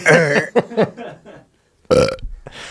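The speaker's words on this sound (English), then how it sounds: "just ends with just one big burp" Someone lets out a loud, drawn-out burp, then after a short silence comes another hearty burp or belch, close and unabashed.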